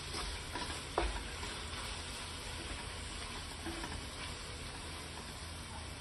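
Tomatoes with salt and chili powder being stirred in a frying pan, a continuous dense sizzle with a few soft utensil clicks, steady and close throughout.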